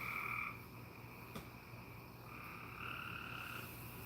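Frogs croaking around an old backyard pool, several repeated croaks and trills overlapping at a distance, soft and alone with no talk.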